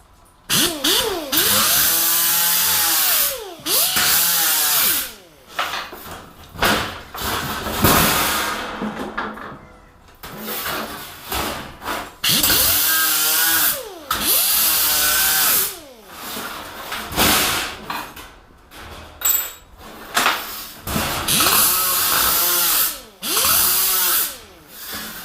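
An angle grinder works the edges of a painted panel in repeated bursts of high-pitched whining and rasping grind, each spinning up, cutting loudly for a few seconds, then winding down between passes.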